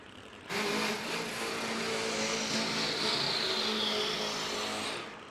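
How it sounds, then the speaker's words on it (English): Drag racing motorcycles at the Fuel Tech World Finals roar at full throttle: a loud, sustained engine howl starts abruptly and holds with a rising high whine for about five seconds, close and dense, with no talk. "You'll notice that both motorcycles sound very distinctively different."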